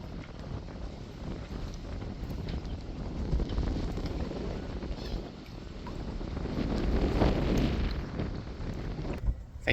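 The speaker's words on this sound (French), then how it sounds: "le vent s'est levé un peu. Fait qu'il vente un peu" Wind gusts outdoors on the sea coast at Cape May buffet the microphone, a rumbling, rising and falling roar that swells louder toward the end.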